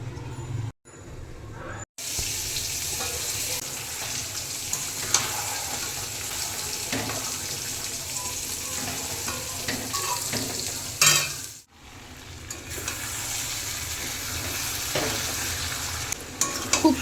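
Goat mutton curry frying in a pan while being stirred: dense close sizzling with repeated scraping strokes of a spatula, broken by two brief silences.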